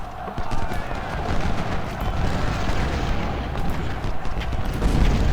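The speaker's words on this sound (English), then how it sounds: "Parrott guns, please keep firing on the artillery." Parrott rifled artillery firing in the Ultimate General: Civil War strategy game, a steady rumbling battle din of distant cannon booms and musketry rolling together without pause.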